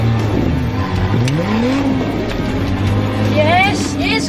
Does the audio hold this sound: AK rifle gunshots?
no